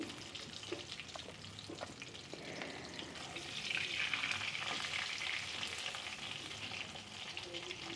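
Fish pieces fry in hot oil with a continuous, dense crackling sizzle that swells a little midway, punctuated by occasional light clinks, heard close and alone without talk.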